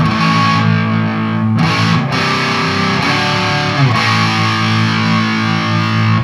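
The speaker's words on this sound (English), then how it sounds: "The fun thing is when you kick over to the dirty channel, Leslie." Loud, heavily distorted electric guitar chords ring out through an overdriven amp, thick and saturated, with a few quick chord changes and no voices.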